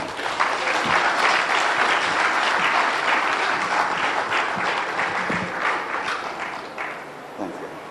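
Sustained applause from an audience for the Finance Minister at a government town-hall meeting on the e-levy, dense and steady clapping close by that holds for the full stretch and eases only slightly near the end.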